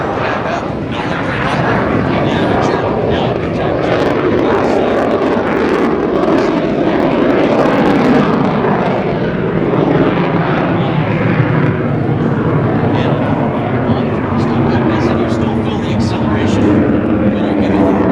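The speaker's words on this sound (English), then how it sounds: "You're going to hear that engine start to slow back up." Loud, continuous roar of a U-2 Dragon Lady jet engine making a low approach at the MCAS Miramar airshow, a steady broadband rush with a commentator talking over it.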